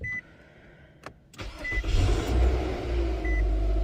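A 2013–2018 Nissan Altima fitted with a new starter and belt beeps a few times, then its engine cranks and catches. It settles into a loud, steady idle, and a short chime sounds again near the end.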